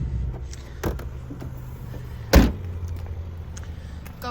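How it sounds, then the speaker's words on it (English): A car door on a 2018 Subaru Forester is opened, giving one sharp nearby latch-and-swing thud. Faint clicks come before it, and a low steady hum runs underneath. "I'll open the door so you can see the trunk area"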